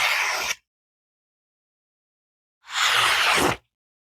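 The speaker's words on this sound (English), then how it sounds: "I like the sound of that as it's going through the paper." A Kubey Boxer knife blade slicing through magazine paper, two crisp rasping swipes, the first brief and the second a longer smooth cut, close and clear with silence between.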